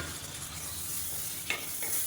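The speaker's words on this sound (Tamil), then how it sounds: "இது லேசாக எண்ணெயில் வதக்கி விட்டுக்கலாம்." Tomatoes sautéing in hot oil in a pan while preparing chicken biryani, a steady soft sizzle with a brief stirring scrape near the end and another shortly after, no talking.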